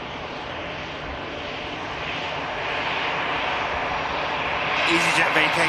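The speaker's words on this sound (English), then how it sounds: "EasyJet vacates as the Qatar at the back of shop commences the departure roll." A Qatar Airways jet starts its departure roll at Manchester Airport, a steady loud engine roar that builds toward the end and is heard from a distance.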